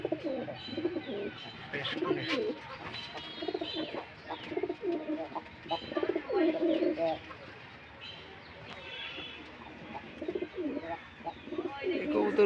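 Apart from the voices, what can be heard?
pigeons cooing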